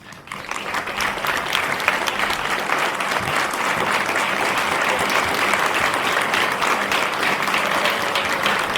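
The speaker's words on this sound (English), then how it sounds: "we can give you a round of applause" A standing crowd applauds steadily for several seconds at a school ribbon-cutting ceremony, dense clapping at an even volume throughout, without speech on top.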